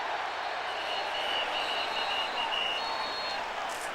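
A stadium crowd at a college football game between Oklahoma and Bowling Green roars in a continuous, loud wash of cheering, with a faint whistle-like tone riding above the din.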